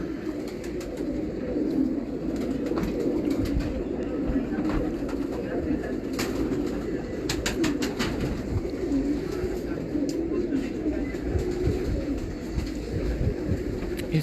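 Prized pigeons at a kabootar baazi loft, cooing steadily in low rolling murmurs throughout, with background chatter and voices mixed in.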